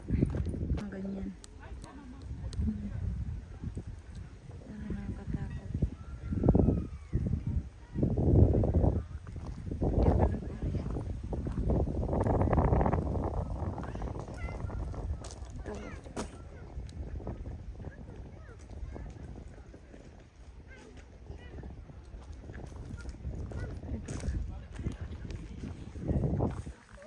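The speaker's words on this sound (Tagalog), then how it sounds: "Kabayo." Horse hooves clip-clop on hard ground at a zoo in Germany, a recurring patter heard close by amid loud voices chatting throughout.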